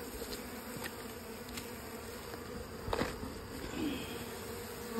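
Honey bees buzz around a hollow tree hive, a steady, faint swarm drone close by with a few louder passes of individual bees and no talking.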